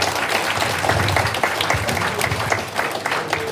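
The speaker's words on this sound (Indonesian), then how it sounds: "Kasih tepuk tangan buat Bapak Ibu semua." An audience at a Malaysian business group event applauds, dense steady clapping filling the hall for several seconds without a break.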